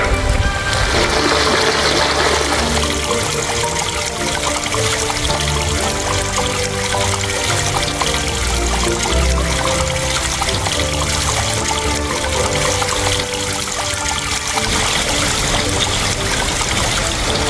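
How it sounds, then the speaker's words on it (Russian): Water overflows a levada irrigation channel on Madeira and pours out in a loud, continuous rushing and gurgling, steady throughout and close by. "Левада не просто заполнена до краев, она уже переполнена, так что вода выливается."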